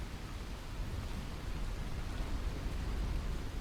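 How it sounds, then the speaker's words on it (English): Steady, dense rain hiss in the video game Stalker GAMMA with a low rumble underneath, continuous and fairly loud throughout, with no voices. "The Dying Light rain sounds pretty damn good."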